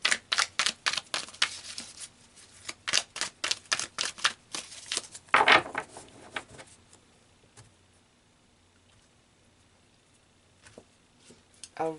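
Tarot cards being shuffled and drawn, a quick run of crisp flicking riffles and taps close by, then a softer card-pull slide before near silence.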